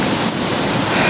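A river at a foot crossing flows steadily, a loud, broadband rushing of water with no voices over it.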